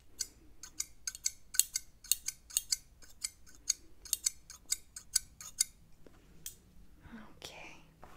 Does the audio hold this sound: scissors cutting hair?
yes